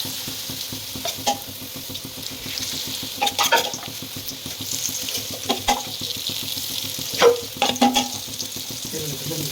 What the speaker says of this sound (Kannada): ಇವಾಗ ಎಣ್ಣೆಗೆ ಹಾಕೋಣ. ಎಣ್ಣೆ ಕಾಯ್ದಿರಲಿಲ್ಲ. ಚುರು ಅನ್ಬೇಕು.